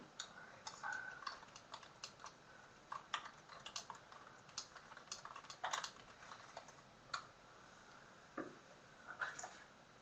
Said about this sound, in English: So we see people are typing feverishly.